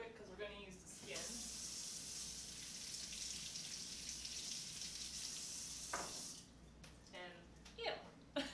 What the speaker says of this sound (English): I'm gonna rinse it real quick because we're gonna use the skin.